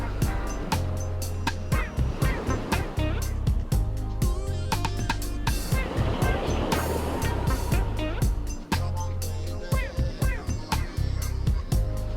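Ocean surf rolls behind a relaxing stretching session, a soft wash of waves swelling and receding beneath scattered sharper sounds and a calm voice speaking.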